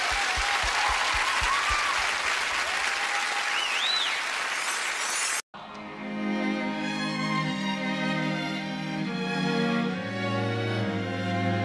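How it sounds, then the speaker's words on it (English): Applause from a concert audience at a Christmas show rings out loud and dense for about five seconds, then cuts off abruptly as music begins. "One big round of applause"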